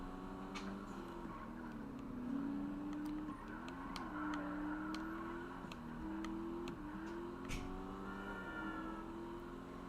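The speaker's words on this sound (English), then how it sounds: "this car is so much fun to drive" A car cruising in Grand Theft Auto Online hums steadily at close range, its engine tone rising and dipping as it shifts and accelerates, with faint ticking clicks scattered over the top and no one talking.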